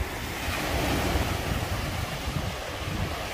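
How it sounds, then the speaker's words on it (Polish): Sea waves break on the shore with a continuous surging rush, mixed with gusts of wind buffeting the microphone, the surf swelling slightly in the first second and then rolling on steadily. "Ale fajnie te fale wyglądają."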